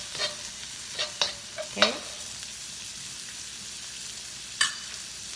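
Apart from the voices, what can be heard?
stir-frying jalapeno for salt and pepper prawns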